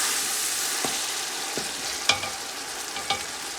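Onion, garlic and ginger fry in oil in a pan for chicken kabsa, a steady loud sizzle broken by a few soft spatula scrapes at intervals, with no talking.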